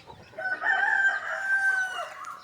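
Free-range country chickens: a rooster crows in one long, loud drawn-out call close by, with hens clucking around it.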